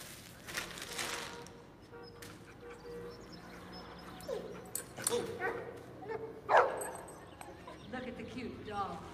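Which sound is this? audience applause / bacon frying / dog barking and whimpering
dog barking and whimpering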